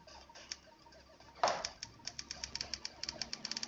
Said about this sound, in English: Can you stop typing?